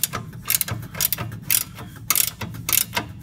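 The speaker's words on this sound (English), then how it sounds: "So just use that long extension to get that one out, right? And as I said, ratchet spanner up behind here." Ratchet spanner undoing fuel tank guard bolts under a Toyota Land Cruiser, rapid rhythmic clicking strokes repeating close by with short pauses between.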